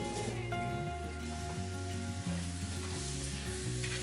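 Honey caramelizes in a large frying pan with a steady, close sizzle and soft crackling that continues without a break, while a low background hum runs underneath.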